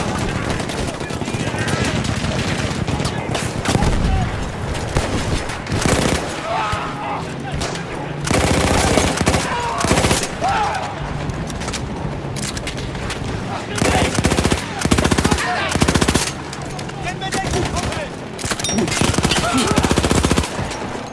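Gunfire in Battlefield 1 on a World War I Italian front, with a manned machine gun firing long rapid bursts at close range, loud and dense, broken by short pauses, while a voice talks over parts of the battle.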